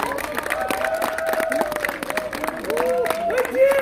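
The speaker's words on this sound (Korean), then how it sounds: "여러분 다시 한번 감사의 박수 부탁드리겠습니다" Audience applause of thanks for a barefoot man who set a world record on ice, clapping mixed with crowd murmur and a voice over it, steady and fairly loud throughout.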